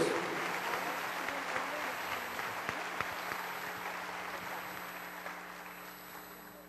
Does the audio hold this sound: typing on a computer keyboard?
no